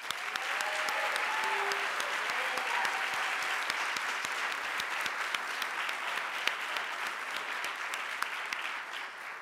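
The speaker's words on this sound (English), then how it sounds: "Let's give everyone another round of applause." Audience at a small business awards ceremony applauding the winners, a steady, dense wash of clapping sustained for nearly ten seconds, with faint crowd murmur underneath.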